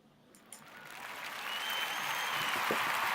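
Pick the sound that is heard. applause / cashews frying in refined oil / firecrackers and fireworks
applause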